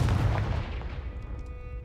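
A Confringo fire spell explosion in the game Hogwarts Legacy, a single booming blast at the start that decays into a fading rumble.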